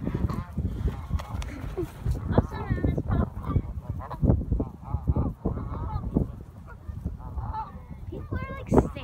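Geese being fed popcorn honk repeatedly in a noisy, crowded flock close by, overlapping calls and flapping mixed with a steady outdoor background, seagulls nearby.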